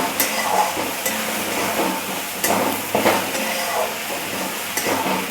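Dried fish and brinjal frying in oil for a spicy vangi bharit, with chilli powder and salt: a loud, continuous close sizzle and hiss, with periodic scraping bursts as the pan is stirred.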